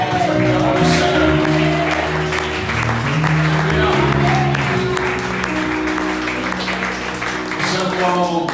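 A church congregation applauds continuously, the dense clapping mixed with crowd voices and music throughout.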